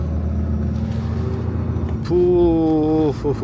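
A truck engine rumbles steadily as it manoeuvres into a narrow construction site entrance, then a loud horn blast cuts in for about a second before dropping away.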